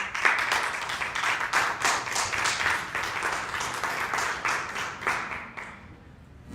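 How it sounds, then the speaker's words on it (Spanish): A congregation claps together in a brisk burst of applause that keeps an even pace for several seconds, then fades out. "Denle un aplauso al Señor."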